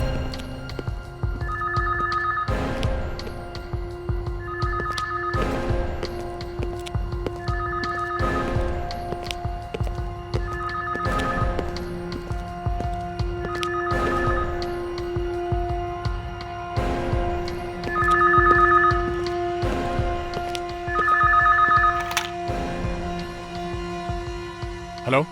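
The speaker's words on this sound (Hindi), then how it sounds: "फोन कहाँ बज रहा है?" A telephone rings again and again in a regular electronic pattern, about eight rings, over a faint musical background.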